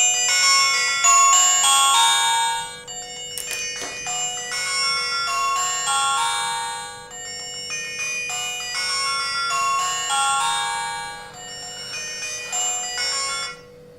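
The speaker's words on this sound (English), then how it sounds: "it will ring it for 1 minute, so you can find where the device is" A 9Tong Q90 kids' smart watch rings in finder mode, looping a bright electronic ringtone melody of repeated chiming notes that plays loudly and continuously, with a brief click partway through.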